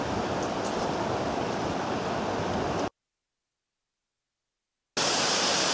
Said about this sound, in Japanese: かずら橋の奥にある隠れた名所、琵琶の滝、こちらにあります。